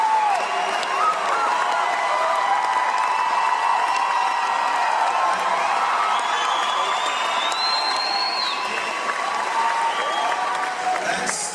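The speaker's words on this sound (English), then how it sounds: "Thanks for applauding that." A crowd claps, cheers and whoops continuously after a live song, a full, sustained wash of applause with scattered shouts rising over it throughout.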